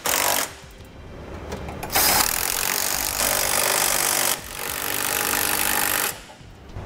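A power tool runs up close while tightening trailer hitch fasteners on a 2007 Kia Sportage. It gives loud repeated bursts of rattling, each lasting a second or two, with short gaps between them.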